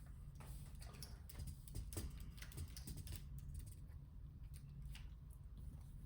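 Someone types a password on a computer keyboard, a quiet burst of irregular key clicks over a low background rumble, close to the microphone with no talking.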